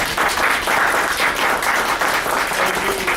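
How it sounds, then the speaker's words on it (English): Sustained applause from a forum audience, dense and steady throughout, with crowd clapping filling the room at close range and no one talking over it. "So everybody give her a round of applause."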